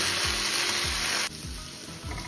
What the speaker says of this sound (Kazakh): Енді осыны араластыра отырып қуыратын боламыз аздап